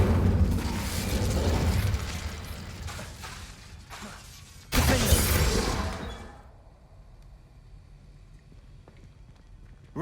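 A fire spell blasts out in Hogwarts Legacy: a sudden loud burst of roaring, crackling flame that flares sharply mid-clip over dense game noise, then dies away to a quiet, hollow background.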